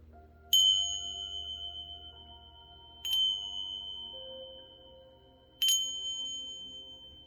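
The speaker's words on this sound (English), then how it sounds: "got my little Tibetan chimes here." Small Tibetan chimes struck three times at even intervals, each a bright, clear metallic ring that lingers and slowly fades in a quiet room.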